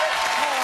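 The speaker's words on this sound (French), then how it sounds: "Applaudissements pour Sophie Favier" Dense audience applause on a French television entertainment show, steady and loud throughout the short moment with no talk over it.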